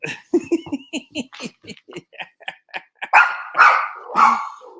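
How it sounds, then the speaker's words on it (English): Dogs bark in a quick run of short, sharp barks close by, then give a few louder, drawn-out barks and yelps toward the end, with no talking over them. "They're very well trained dogs, these guys."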